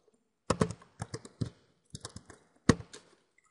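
Typing code on a computer keyboard: several short clusters of crisp key clicks separated by brief pauses, close and clear in an otherwise quiet room.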